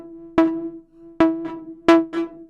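A synth preset with reverb pre-delay turned all the way down plays four separate plucked, bell-like hits over a held tone, each hit followed by a short reverb tail, fairly loud and close, with no voices.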